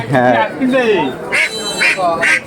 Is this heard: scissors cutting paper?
no